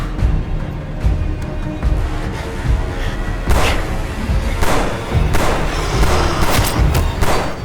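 Gunfire and heavy thuds from a Hindi-dubbed Hollywood action adventure film set on an island, dense with repeated loud bangs and impacts over continuous action noise.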